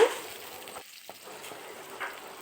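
Mustard seeds, cumin and onion fry in oil with a soft, fairly faint sizzle that briefly drops out near the middle, with no voices.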